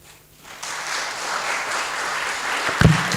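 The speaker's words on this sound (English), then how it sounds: "Let's give him a big round of applause." Applause from the audience at a college poetry and book review competition, rising quickly into steady, full clapping that holds to the end.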